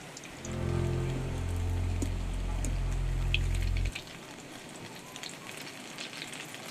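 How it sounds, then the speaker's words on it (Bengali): Chicken pakora coated in batter with egg frying slowly in foaming oil over low heat, a soft steady sizzle with faint crackles, a low hum underneath that cuts out partway. "এটা হালকা আঁচেই ভাজতে হবে।"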